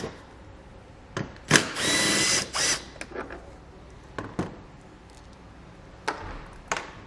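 Power drill spinning out two 10mm screws holding the tail light on a 2019 Dodge Grand Caravan, with an open hatch: one sustained whir of about a second, then short bursts and clicks nearby.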